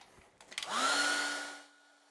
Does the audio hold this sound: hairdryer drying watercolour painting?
yes